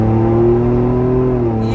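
A Ford Bronco with an AWE 0FG catback exhaust revs, heard from inside the cabin as a loud, steady low drone with a rising tone before easing off.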